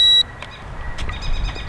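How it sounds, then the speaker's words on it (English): A short, sharp electronic beep from a drone remote controller sounds once at the start, followed by quieter background noise and faint tonal chirps. "Don't know what that beep was at"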